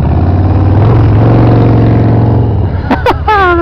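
A Harley-Davidson Fat Boy motorcycle with a straight-pipe exhaust holds a loud, steady throaty rumble close by, then sharp revs flare up near the end as the engine climbs.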